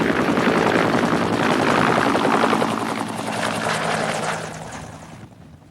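A helicopter flying close by, its loud steady rotor chop and engine roar filling the air before fading somewhat near the end.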